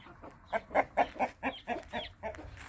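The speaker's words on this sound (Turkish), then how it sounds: "Lan beni dalacak bu horoz." A crested rooster in a village clucks in a quick series of about nine rhythmic, nasal calls, close and clear.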